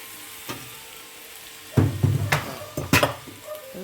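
Boiled turmeric potatoes stirred into a sizzling tomato masala for vegetable biryani, with a spoon scraping and clinking the pan in several short bursts over a quiet background frying hiss.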